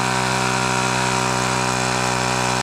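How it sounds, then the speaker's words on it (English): Small cordless handheld air compressor inflating a tire on a 2005 Honda Silver Wing scooter, a steady loud buzzing drone held close for a couple of seconds before cutting off abruptly. "Just a little cordless handheld air compressor"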